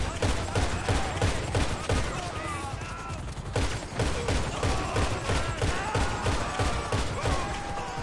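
Dense, rapid bursts of gunfire from the video game GTA V rattle continuously, loud and close, with sharp repeated shots layered over one another.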